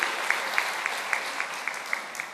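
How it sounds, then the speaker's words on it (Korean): A church congregation claps to welcome a first-time newcomer during a service, giving steady, moderately faint applause with soft clap peaks and no talking. "우리 한 박수로 한번 환영해 주시기 바랍니다"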